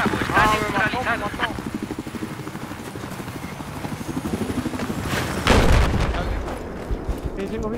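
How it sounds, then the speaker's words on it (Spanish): Video game combat with a helicopter's rapid rotor chop pulsing steadily under gunfire, and a louder burst of shots near the end while players talk over it. "Estoy viendo un helicóptero enemigo al este de tu ubicación."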